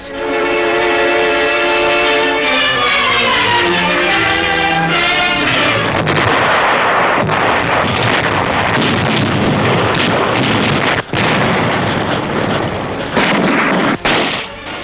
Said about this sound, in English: the Yanks advanced slowly, facing one of the fiercest artillery barrages of the war